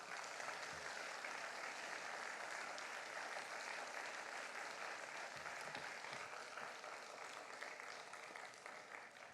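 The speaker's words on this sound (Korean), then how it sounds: "우리 큰 박수로 환영하겠습니다" Sustained applause from a church congregation at a Wednesday prayer service, welcoming a missionary forward; dense, steady clapping fills the room throughout and tapers slightly near the end.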